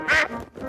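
A cartoon duck in Peppa Pig gives a single loud, nasal quack, short and close, with no talking over it.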